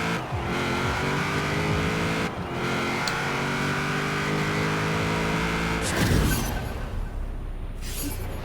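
A tuned Pontiac Firebird on drag racing tires revs hard in Forza Horizon 4, the engine note climbing through gears with a steady loud roar, a brief break and shift around the middle, and a sharp crash-like burst before settling.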